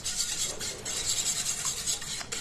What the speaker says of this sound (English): So then we'll whisk it up.